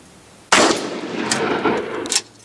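A shotgun blast at skeet clay targets, a single sharp loud report close by that rings out and trails into a fading echo lasting over a second.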